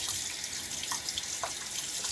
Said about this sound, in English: one of the things I'll do to help that is to make my rinses be with cold water